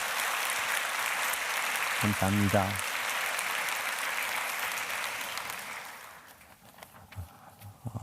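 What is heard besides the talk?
applause for Japanese church members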